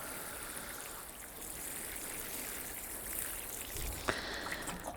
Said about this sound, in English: So I'll just get him watered in. Give him a really good water